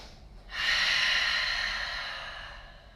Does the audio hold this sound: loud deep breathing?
yes